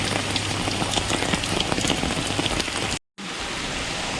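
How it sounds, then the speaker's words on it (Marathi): Heavy rain pours outside a school gate in a loud, dense, continuous roar of drops hitting surfaces, briefly cut by a short gap near the end. "तर पाऊस बघू शकता खूप पाऊस आहे इथे"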